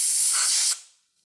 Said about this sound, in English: blow it off with a little air.